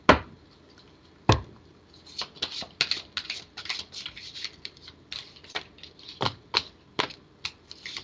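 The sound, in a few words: shuffling tarot cards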